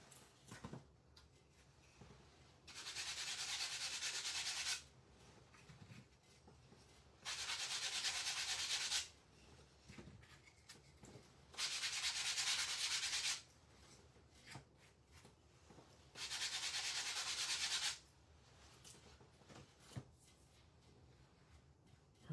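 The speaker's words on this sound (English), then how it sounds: "I am going to lightly sand." Wood slice ornaments are lightly sanded by hand in four separate bursts of soft, hissy rubbing, each a couple of seconds long, with quiet pauses and small handling noises between them.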